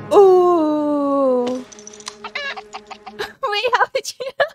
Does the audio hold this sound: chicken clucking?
yes